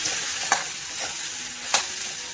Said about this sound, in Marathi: मिश्रण एकत्र करून घेते